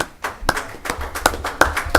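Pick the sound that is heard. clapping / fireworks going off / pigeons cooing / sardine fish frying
clapping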